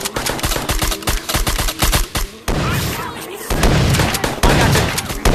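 Rapid bursts of automatic gunfire from the Animals VS Zombies game, loud and close, with a quick string of sharp shots followed by heavier sustained firing and blasts.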